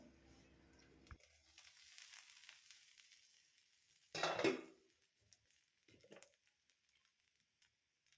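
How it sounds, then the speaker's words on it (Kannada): Dosa batter hits a hot pan with a sudden loud sizzle, followed by quieter frying crackle and a few soft scraping sounds in a quiet kitchen. "ಇವಾಗ ನಾನು ದೋಸೆ ಹಾಕ್ಕೊಳ್ತಾ ಇದ್ದೀನಿ."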